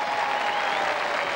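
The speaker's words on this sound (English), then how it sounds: "Round of applause for two great contestants there." A studio crowd at a 1987 BBC televised knockout tournament applauds the contestants, a brief, steady wash of clapping heard alone.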